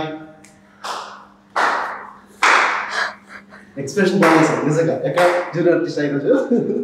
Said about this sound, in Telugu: ఏం సౌండ్ వస్తుంది? చప్పట్లు